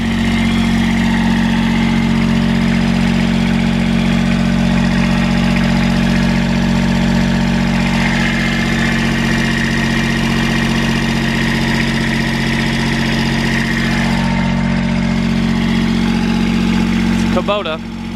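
A Kubota machine engine runs steadily at idle, loud and close, with a steady low drone throughout and a brief clatter near the end.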